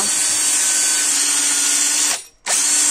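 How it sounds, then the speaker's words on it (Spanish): A brushed electric drill runs loud and close with a steady high whine, cuts out briefly near the end, then starts again. "Y el taladro, pues una vez que está ya limpio todo por dentro, le damos caña."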